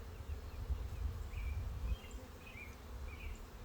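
Honey bees in a hive box during a brood nest inspection, a steady low buzzing hum of many bees close by, with a few brief higher whines from individual bees passing near.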